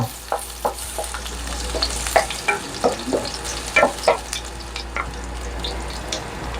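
Chopped garlic fries in a hot pan for a beef kaldereta, giving a steady close sizzle broken by repeated scraping stirs, with no talking.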